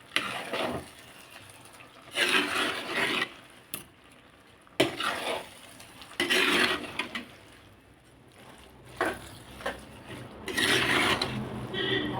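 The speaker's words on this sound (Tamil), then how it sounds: "இப்போ இதெல்லாம் சேர்ந்து மிக்ஸ் பண்ணி விட்டுக்கலாம்" A sundakkai (turkey berry) pickle mixture with ground fenugreek powder being stirred and mixed in a pot, heard as intermittent wet scraping bursts with quiet gaps between them, close by.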